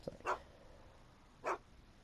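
Einstein, the dog in a Back to the Future adventure game, gives three short, separate barks spaced about a second apart, moderately close with quiet background between them.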